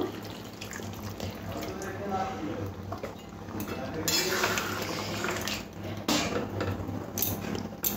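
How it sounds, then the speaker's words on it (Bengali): Lightly spiced water poured into chicken in a pan while cooking chicken Maharani, a steady wet rush with clinks of utensils and pan throughout, fairly close and continuous. "এবার আমি এখানে একটু চিকেনের মধ্যে জল দিয়ে দেবো, অল্প মশলা দেওয়া জলটা দিয়ে দেব।"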